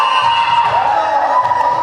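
Crowd cheering and shouting in a gym at a girls' JV high school volleyball semifinal, a loud, continuous wash of voices with shrill calls rising above it throughout.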